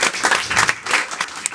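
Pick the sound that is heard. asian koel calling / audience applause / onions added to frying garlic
audience applause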